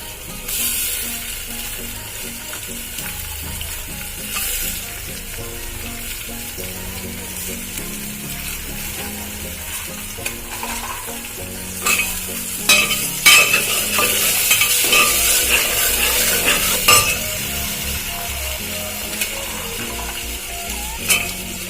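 Carrots and chopped vegetables sizzle and crackle while being stir-fried for vegetable pulao, a continuous hiss with scraping spatula strokes against the pan that grow busier and louder midway through.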